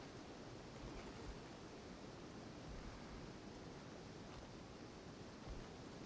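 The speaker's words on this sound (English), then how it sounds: "I'm checking the waterfall." A waterfall in the Guild Wars 2 game world pours as a steady, dense, fairly quiet wash of falling water, unchanging throughout and heard alone without any voices.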